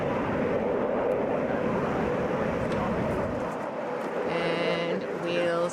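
A Mitsubishi CRJ regional airliner on a Delta Connection flight roars on takeoff at Hartsfield-Jackson airport, a loud sustained broadband jet rush that eases as tonal whines emerge near the end.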